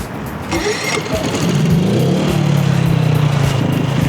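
An EcoFlow smart generator engine starts with a brief cranking burst, then settles into a loud, steady running drone with a rising pitch as it comes up to speed.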